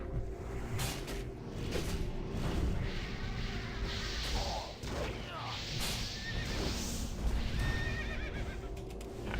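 Horses whinny and neigh in World of Warcraft Classic, several calls among clip-clopping hooves and scattered game clatter, moderately loud in a busy mix.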